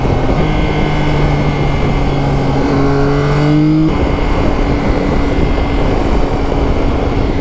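A Yamaha Tracer 900 GT Plus motorcycle with a quick shifter accelerates hard, its engine note rising through the gears with a quick drop at each shift. The exhaust roar is loud and sustained, with steady wind noise underneath.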